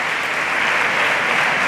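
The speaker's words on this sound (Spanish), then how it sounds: "apoyado por el aplauso de los diputados del Partido Popular" Steady applause from Partido Popular deputies in the Spanish parliament's chamber during an investiture debate, a dense, even wash of clapping filling the hall with no voices on top.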